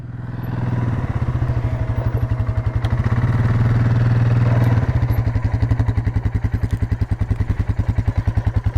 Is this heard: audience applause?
no